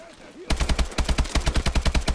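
Automatic gunfire in the video game Call of Duty Advanced Warfare starts abruptly after a brief lull and runs as a rapid, regular burst of sharp, loud shots, roughly a dozen in quick succession.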